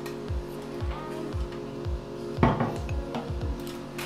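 Metal baking tray of filled homemade bread rolls sliding into a home oven, with a series of close clanks and scrapes of the tray against the oven rack and a louder knock midway.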